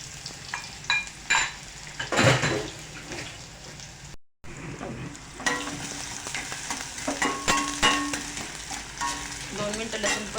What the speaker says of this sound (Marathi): दोन मिनिटं लसूण परतल्यानंतर आपण कांदा घालायचा आहे